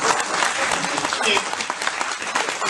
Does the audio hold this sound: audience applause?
yes